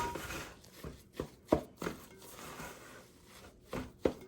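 Falafel mix being folded and stirred by hand makes soft, scattered scraping and dull thumps at an irregular pace, quiet and close.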